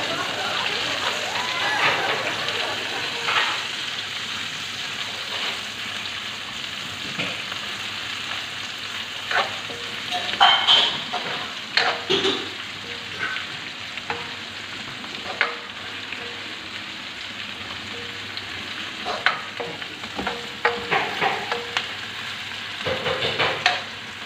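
Sliced onions frying for pinakbet in a hot pan, a steady crackling sizzle with intermittent scraping stirs and clinks throughout, close and fairly loud, with occasional brief speech in the background.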